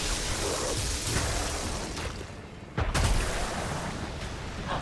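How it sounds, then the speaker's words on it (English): Rapid, overlapping explosions from the video game Remnant 2 crash together in a dense, continuous roar, with a sharper blast punching through near the middle and no voices over them. "So many goddamn explosions."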